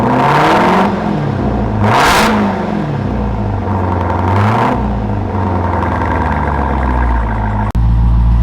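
A 2023 Dodge Durango Hellcat with a muffler delete roars through three sharp revs that climb and fall back to a deep idle rumble, loud and close, with a brief click near the end.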